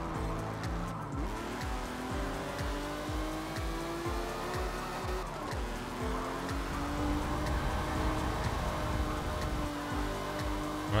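A race car in Forza Motorsport 7 tears around a corner at full speed, the engine note rising and falling through repeated gear shifts, with steady road and tire noise throughout.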